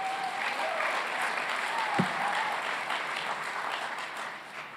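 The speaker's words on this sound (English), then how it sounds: "Yeah, you can clap." Steady applause from a convocation audience for a physical therapy graduating class, broad and continuous throughout, with a brief voice at the start and a small thump near the middle.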